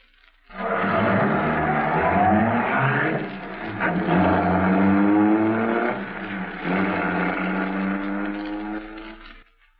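A 1940 Mercury sedan starts up and drives off in an old-time radio drama, its mid-range engine revving loudly and steadily for several seconds before cutting out abruptly.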